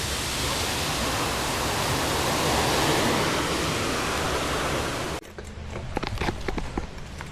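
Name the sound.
creek water flowing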